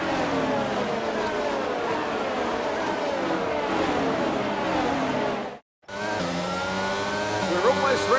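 F1 22 race car engines on a formation lap in the video game, a steady high whine of revving engines with a brief cut, then engines and tire noise resuming, under commentary.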